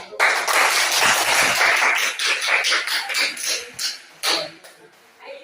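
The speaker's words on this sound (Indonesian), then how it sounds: "Silakan beri tepuk tangan." A small group claps, the applause fairly close and thinning out into scattered, uneven claps as it dies down.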